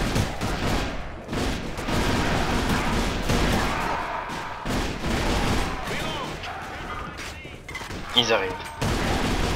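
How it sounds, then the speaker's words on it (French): Dense gunfire and grenade blasts in the online shooter game Alliance of Valiant Arms, rapid bursts of shots and thumps crowding together over several seconds, with a player's voice speaking briefly. "c'est des mecs qui te tirent avec grenade"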